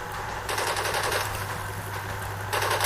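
Bursts of automatic gunfire in the video game Code of Honor 3, with rapid rattling volleys that start sharply, run on, and return in a second burst near the end, moderately loud and without talk.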